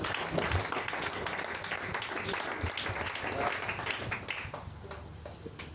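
Church congregation applauding and cheering through the whole stretch, a dense, steady wash of claps and voices at moderate level with no pauses.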